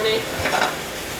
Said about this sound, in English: Fry up these mushrooms.